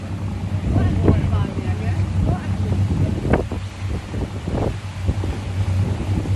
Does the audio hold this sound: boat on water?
yes